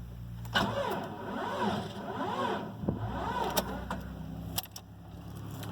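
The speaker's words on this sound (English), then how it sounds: "Let's see if she wants to start up." A 1987 Jeep XJ with the 4.0 engine cranks repeatedly with a warbling, rhythmic starter whir that fails to catch, with a click and some rattles nearby, fairly close.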